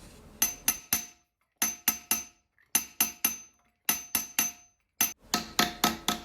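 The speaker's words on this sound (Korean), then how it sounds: "저는 보통 두 번이나 세 번 정도 플레이식 망치질을 이용해서 표면을 고르고 예쁘게 잡아줍니다" Planishing hammer blows on a red copper ladle, struck in quick bursts of three to five ringing metallic taps separated by short pauses, close and fairly loud.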